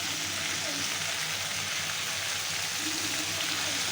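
Roselle (mesta) leaves fry in a pan with a soft, even sizzle that stays low and constant throughout, no one speaking.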